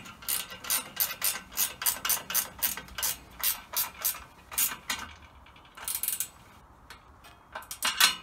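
A clamp is ratcheted tight onto a log, giving a close series of sharp, rhythmic clicking strokes, then a pause and a few final clicks.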